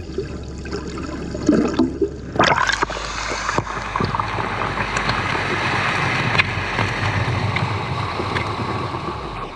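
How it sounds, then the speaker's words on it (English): Steady rushing, splashing water of a waterfall fills the clip, broad and close, with a few sharper splashes and knocks near the start. "It's nothing quite like a natural jacuzzi, waterfall on your back."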